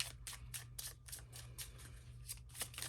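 Small tarot cards are shuffled overhand, making a rapid, steady train of soft papery slaps and swishes that sit close and fairly quiet over a low background hum.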